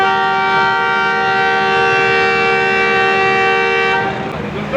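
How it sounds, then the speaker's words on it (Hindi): A sustained, loud multi-tone train whistle sounds on a Pakistani railway platform before the 39UP Lahore to Rawalpindi service departs, holding steady for about four seconds then cutting off. "विसल हो गया है जी।"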